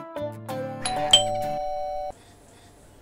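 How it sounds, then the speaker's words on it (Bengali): A household doorbell rings with a loud, close ding-dong chime of several layered tones that sustains for about two seconds and then cuts off into quiet. "Calling bell বাজাইতেছে।"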